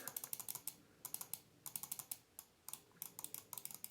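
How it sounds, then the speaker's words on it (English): Quick pairs and bursts of sharp clicks from a Logitech G305 wireless gaming mouse, double-clicking both sides, close up, in clustered groups separated by brief pauses. "and double clicking both sides"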